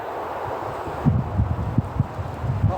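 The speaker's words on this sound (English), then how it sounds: "That wind's picking up as well." Wind gusts through a woodland campsite, a steady broadband rush with soft rustling and low buffeting thumps against the microphone in the second half.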